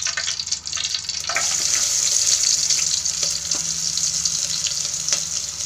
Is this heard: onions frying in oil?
yes